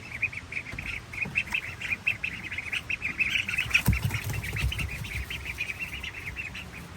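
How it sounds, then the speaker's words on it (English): Five khaki Campbell ducklings on a farm: a dense, continuous chorus of high peeping and chirping calls, steady and fairly close, with a few low rustles and bumps underneath and no talk. "So I found 5 khaki Campbell ducklings."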